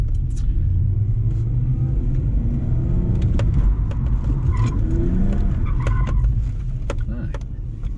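A car pulls away, picks up pace and swings into a handbrake drift, its engine rumbling loudly up close, with tires scrubbing and skidding as it spins, and a voice speaking briefly over it.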